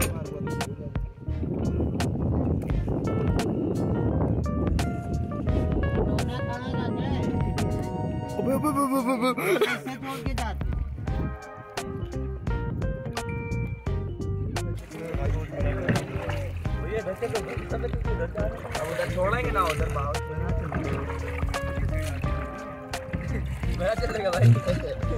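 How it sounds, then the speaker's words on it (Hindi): A boat crosses back over a river, with a steady low engine or motion drone, light splashing and wind throughout while people talk and background music plays over it. "तो अभी हम नाव पे बैठ चुके हैं"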